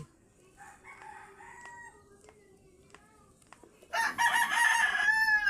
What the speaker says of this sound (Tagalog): Nangingi naman ng mga manok dito.